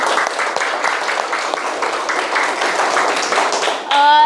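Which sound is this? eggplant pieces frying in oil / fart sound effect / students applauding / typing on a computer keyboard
students applauding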